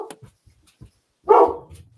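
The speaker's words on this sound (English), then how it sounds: "Why is my dog freaking out?" An agitated dog barks once, loud and close, after a few faint scattered sounds, followed by quieter low rustling in a room at home.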